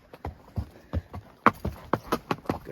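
Shod horse hooves clip-clop close by on a rocky Colorado mountain trail, a brisk, uneven walking rhythm of sharp knocks with no talking.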